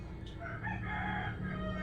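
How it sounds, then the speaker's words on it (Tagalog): A rooster crowing in the background of a rural Philippine setting, one drawn-out call heard over steady ambient noise, no talk. "Puro tilaok ng manok."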